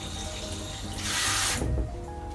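Tap water runs steadily into a kitchen sink to rinse grated daikon radish, close and continuous, briefly swelling louder partway through.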